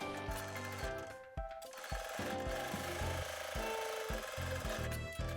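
A sewing machine runs a quarter-inch seam along the edge of fabric pieces for a duffle bag, with a fast mechanical rattle and repeated needle thumps that continue steadily, close up, with no talk.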